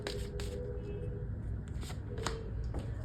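Tarot cards being shuffled by hand make a series of soft riffling bursts and papery slaps, spaced irregularly over a low room hum, close and fairly quiet.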